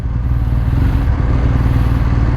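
A 2017 BMW R1200 GS K51 adventure motorcycle with a 1170 cc engine drones steadily while being ridden, a loud, close, even engine hum with wind noise and no speech.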